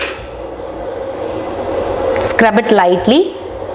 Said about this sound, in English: so I'm going to take all these to the dishwasher area and arrange this